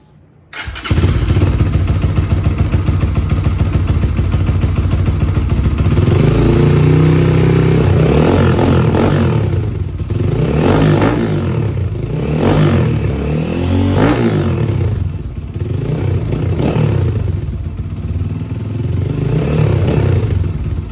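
A Lifan KPR 200 motorcycle fires up after a second of quiet, then its exhaust rumbles loudly nearby and swells through repeated revs at a steady rhythm, with no talking.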